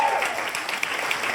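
Audience applause at a comedy gala for therapeutic clowns, a steady wash of clapping from a crowd with a few sharper claps standing out, fairly faint and continuous throughout.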